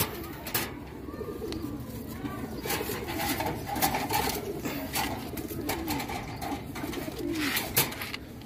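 Soft, low coos repeat close by from a pigeon sick with twisted-neck (tal) disease, mixed with light rustling and scattered clicks.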